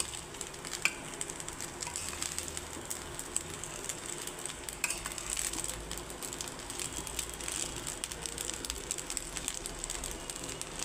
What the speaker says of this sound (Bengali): সব একসঙ্গে আমি মিশিয়ে নেব